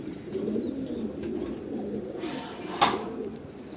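Koka pigeons in a loft giving low, steady rolling coos, moderately close, with a brief rustle or flap near the end.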